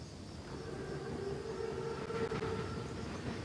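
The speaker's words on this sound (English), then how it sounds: "Train's right on time." An armored train in the Call of Duty WW2 game rumbles in with a steady rolling roar and a rising tonal whine, sounding moderately distant and growing slightly louder.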